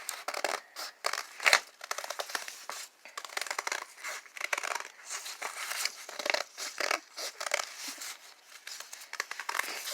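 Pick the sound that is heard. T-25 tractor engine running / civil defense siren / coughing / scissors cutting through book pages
scissors cutting through book pages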